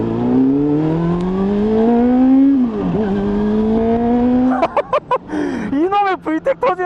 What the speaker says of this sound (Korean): 이놈의 VTEC 터지는 소리 듣고 싶어가지고 말을 못해